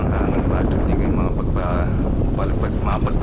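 Strong wind blows across an island beach in Balabac, Palawan, roaring steadily and buffeting the microphone throughout, while a person talks underneath.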